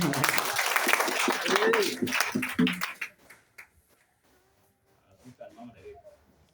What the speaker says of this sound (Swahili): Hebu tupige makofi kwake.